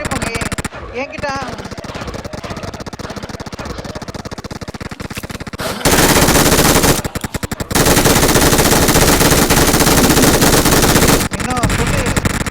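Automatic gunfire in a video game, bursts of rapid machine-gun shots that build to long, loud sustained volleys with brief pauses, while players talk excitedly over the shooting.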